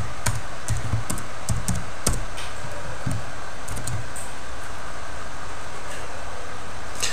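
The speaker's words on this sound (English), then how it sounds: "So you have to type out your password here." A password being typed on a computer keyboard: a quick run of crisp, close key taps in short bursts during the first few seconds, then quieter scattered clicks over a steady background hiss.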